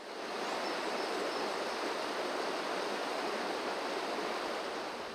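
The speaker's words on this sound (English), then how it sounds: "you can clearly see the pound above is overflowing, the excess spewing round the side channel" Water overflowing a lock on the Chesterfield Canal pours round the side channel, a steady broadband rush that stays even and continuous throughout, close and moderately loud, with no voices.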